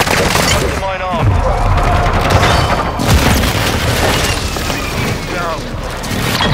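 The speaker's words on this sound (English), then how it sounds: "Friendly airstrike in the AO." Airstrike explosions in Call of Duty Modern Warfare 2, a run of heavy booms and crackling blasts rolling one after another, loud and close, with game radio chatter and voices mixed in.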